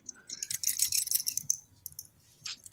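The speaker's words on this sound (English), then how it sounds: "Sounds like keys, like somebody's keys, like car keys." Car keys jangle and rattle in short bright bursts, a busy shake at first, then a pause and one more quick jingle, close and fairly clear.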